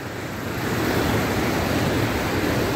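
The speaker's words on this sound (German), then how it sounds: "Was hier aktuell für Wassermassen unterwegs sind." Steady, loud rushing of floodwater in Alanya, a broad continuous roar with wind buffeting the microphone, no voices.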